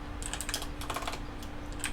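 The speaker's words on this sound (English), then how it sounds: "Typing at a really weird angle." Rapid clicking of a computer keyboard being typed on at an awkward angle, a dense, uneven burst of keystrokes close by over a low steady hum, with no voices.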